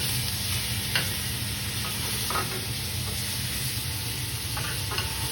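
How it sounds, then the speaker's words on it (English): Melting butter with garlic, thyme and rosemary sizzles steadily in a hot pan while being spooned over to baste. The frying is close and continuous, with a few soft scrapes and clinks, and no talking. "butter melt, and just baste it"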